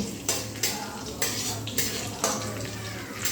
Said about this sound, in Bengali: এবারে গ্যাসের ফ্লেমটা লোতে রেখে এই কাজু আর কিশমিশটা ভালো করে ভেজে নিতে হবে।